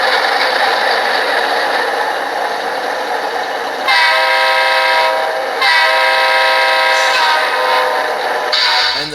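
A Broadway Limited RSD-15 model locomotive sound system plays repeated loud, close horn blasts over steady diesel rumble, with the Doppler horn sounding in three long bursts.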